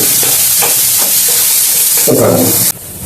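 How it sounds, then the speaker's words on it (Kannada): Garlic and sliced onions fry in hot oil for misal pav, sizzling steadily while a spoon stirs them in bursts; the sizzle swells loudly near the end, then drops abruptly. "ಬೆಳ್ಳುಳ್ಳಿ ಹಾಕೋಣ ಮತ್ತು ಚಮಚ ಹುರ್ಕೋಣ"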